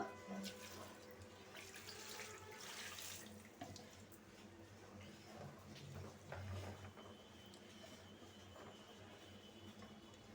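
Water runs steadily from a tap into a cooking pot, a continuous splashing stream at close range with faint clinks and low background hum.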